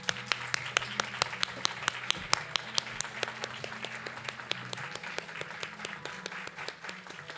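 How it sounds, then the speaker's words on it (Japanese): Press conference guests clap to welcome actor Park Seo-joon onstage: crisp, moderately loud hand claps in a brisk, uneven patter that thins out over several seconds. "皆様大きな拍手でお迎えください"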